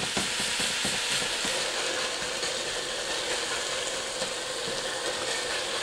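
Ground beef sizzles steadily in a pan while a utensil scrapes and chops through it, giving scattered clicks and knocks over a constant close frying hiss, with no talking.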